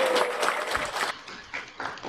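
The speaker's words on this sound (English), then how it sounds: "Indeed, a huge, huge round of applause and heartiest congratulations to all the awardees" Audience at a Security Printing and Minting Corporation of India awards ceremony clapping for award winners, a fairly faint, brief burst of applause that thins out and tapers near the end.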